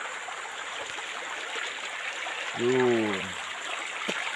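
A mountain stream flows with a steady, close rushing wash throughout, and someone speaks a brief word over the water partway through.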